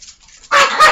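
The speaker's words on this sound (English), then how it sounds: "My dog." A dog named as the household pet gives a single loud, close bark partway through, preceded by a quiet moment and ending abruptly.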